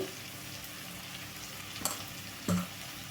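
Spice powders such as coriander and cumin powder sizzle and fry in a pan for a cabbage and yellow gram curry, with a steady close crackle and a couple of brief stirring scrapes.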